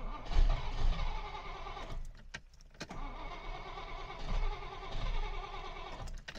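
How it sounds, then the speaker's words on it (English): A Rover P6 V8 with an unwell engine that needs choke runs with a rough, uneven idle, briefly broken by a sharper cranking or stumbling moment partway through, heard close up. "let's hop in and start it up a bit"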